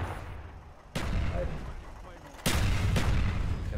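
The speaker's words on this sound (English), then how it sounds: "I'm hiding in the bathroom until this RCXD blows up." RC-XD explosions in Call of Duty Black Ops, two sharp loud booms about a second and a half apart, each cutting in suddenly and leaving a rumbling tail under faint battle noise.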